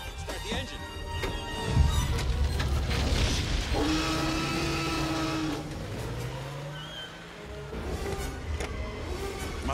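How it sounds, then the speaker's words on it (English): Car engine turning over and pulling away during the T. rex main road attack scene in Jurassic Park, a rising engine note heard under urgent talk, roaring effects and mechanical creaks. "Start the engine."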